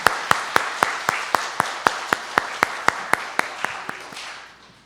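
A church congregation claps in unison for the choir and accompanist at a Sunday harvest thanksgiving service, about sixteen evenly spaced, crisp claps in a steady rhythm that fade away at the end.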